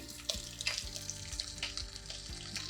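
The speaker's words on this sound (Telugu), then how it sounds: "శనగపప్పు మినప్పప్పు వేగాలి ఇందులోనే పచ్చిమిర్చి" Chana dal, urad dal and green chili fry in a pan with a soft, steady sizzle and crackle, heard close but quiet over a faint tonal hum.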